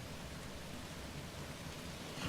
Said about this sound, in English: the storm now seems to be picking up where I am